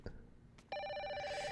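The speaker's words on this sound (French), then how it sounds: "Téléphone." An old-style telephone in the Project Zero 5 video game starts ringing partway through, a steady electronic trill sustained to the end after a quiet stretch.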